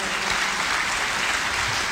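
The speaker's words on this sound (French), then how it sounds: "Ils méritent nos applaudissements" Steady, full applause from an audience greeting the top pupils of the Lycée sénégalais de Banjul, sustained and even throughout, with a voice faintly audible beneath the clapping.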